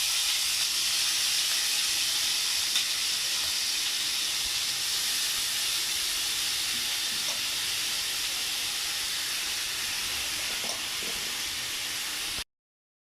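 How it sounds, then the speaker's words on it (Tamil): Marinated chicken fries lightly in a little oil, a steady close sizzling hiss that holds evenly without a break, then cuts off abruptly at the end. "நம்ம ஊற வச்சுருக்க சிக்கன் வந்து கொஞ்சமாக எண்ணெய் ஊற்றிருக்கேன், அதில் போய் நம்ம வந்து பொரிச்சு எடுத்துக்கலாம் லேசாக"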